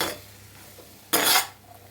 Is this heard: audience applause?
no